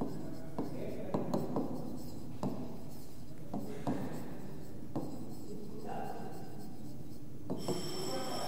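Marker or chalk strokes on a classroom board during a maths lesson, heard as several scratchy bursts at an irregular pace, close and moderately loud, with faint background murmuring.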